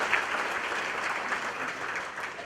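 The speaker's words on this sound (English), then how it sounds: "You can give them a round of applause as well for joining us." Steady applause from an audience at a school sports awards ceremony, a dense, even wash of clapping that holds at the same level throughout without a break.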